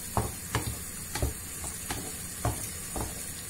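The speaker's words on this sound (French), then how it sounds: "on laisse mijoter notre petite sauce" A small pan of sauce seasoned with cumin, salt and pepper for a cauliflower dish cooks quietly with a low steady sizzle, broken every half second or so by soft scraping stirs.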